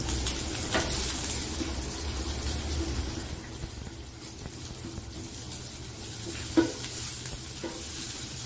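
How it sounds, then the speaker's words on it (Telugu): Onions fry in hot oil while being stirred for a South Indian tomato bath, giving a soft, steady sizzle with scraping stir strokes and a sharper clatter near the end, close and fairly quiet. "మన రోజ్ బ్రౌన్ కలర్ వచ్చేదాకా మనం వేయించుకుంటూ ఉండాలి."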